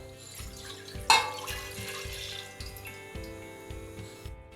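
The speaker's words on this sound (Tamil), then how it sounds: "இந்த பால் கூடவே 1 கப்பு தண்ணி சேர்த்துக்கிறேன்." Water pours and trickles into boiled milk inside a pressure cooker, a soft splashing stream with a sharper splash near the start, fairly quiet and with no talking.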